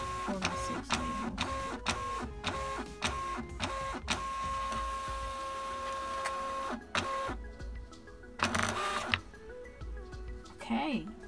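A ROLLO label printer feeding 4x6 shipping labels, a rapid mechanical clatter of repeated ticks and motor whirs with a steady tone running through, close by, followed by scattered clicks, with people talking at times.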